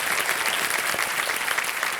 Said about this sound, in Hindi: तालियां बजाएं इनके स्वागत के लिए।